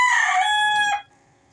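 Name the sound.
chickens crowing and clucking in backyard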